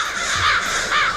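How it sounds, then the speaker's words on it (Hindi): Black crows cawing loudly and close by, two harsh overlapping caw bursts within about a second, with no talk over them. "अब ये तो ब्लैक क्रोस है।"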